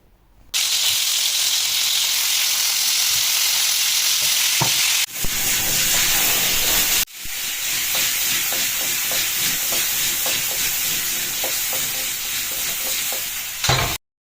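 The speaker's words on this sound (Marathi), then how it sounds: "कढईमध्ये 2 चमचे तूप घालायचे आणि चिकनला यामध्ये छानपैकी फ्राय करून घ्यायचे" Chicken sizzles steadily as it fries in ghee in a wok, a loud continuous hiss that cuts out briefly midway and then resumes, with faint stirring scrapes along the way.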